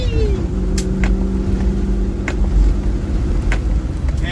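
A Land Rover Defender 110 drives in second gear over wet, rain-shifted gravel, its engine a loud steady rumble with gravel crunch and a few sharp clicks or knocks over it; no one talks.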